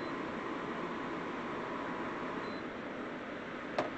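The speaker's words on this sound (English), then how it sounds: "Let me shut off that air conditioner." An air conditioner hums steadily indoors, a constant faint broadband whir with no change in level, broken only by one brief click near the end.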